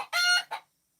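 A rooster lets out a short, close, harmonic crowing call with a brief second burst at the end, heard alone.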